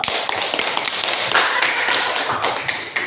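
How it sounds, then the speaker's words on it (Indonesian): Students in a classroom clap together in a brisk round of sharp, close hand claps that continues for a few seconds without talking. "Tepuk tangan dulu."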